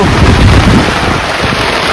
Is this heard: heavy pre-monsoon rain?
yes